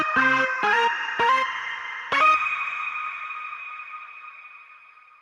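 A bright synthesizer lead plays four sharp notes in quick succession at church practice, the last one held and slowly fading out, with no voices present.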